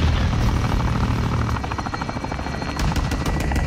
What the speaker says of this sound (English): Might as well use Price in that chopper